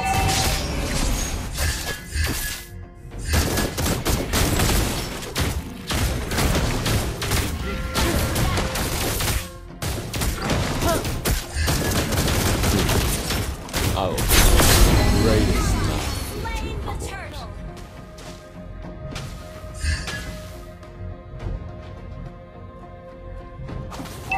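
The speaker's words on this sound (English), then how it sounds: "Behold, my crescendo bullets!" Granger's crescendo bullets in the Mobile Legends video game: a dense, loud barrage of rapid gunfire bursts with crashing impacts over game music, continuous for most of the stretch, easing into quieter tones near the end.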